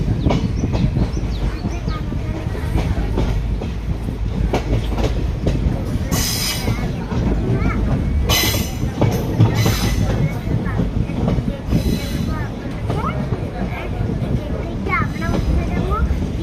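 A departing passenger train rolls along the rails with a loud, steady rumble, rhythmic clickety-clack and occasional bursts of high wheel squeal. Voices can be heard faintly beneath the train noise.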